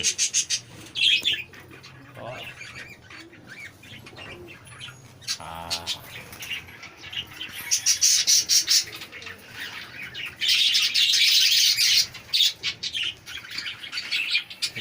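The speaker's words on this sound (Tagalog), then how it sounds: "mga quality ibon" Birds chirp and tweet close by in busy, overlapping bursts, with some wing flutters and squawks between quieter moments.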